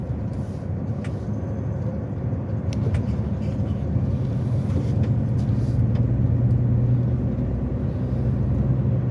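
A car driving along a winding mountain road with many bends, giving a steady, close engine and road rumble that swells slightly and continues without a break.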